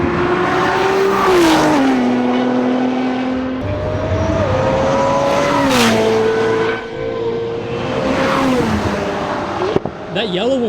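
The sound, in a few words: Nissan GT-R Nismo sports car driving past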